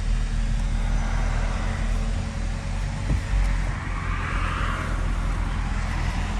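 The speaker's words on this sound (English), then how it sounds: "All right, so give it a tiny rev." A freshly tuned Chevrolet Camaro SS in a parking lot holds a deep, steady engine rumble with only a gentle rev, heard close with no talking.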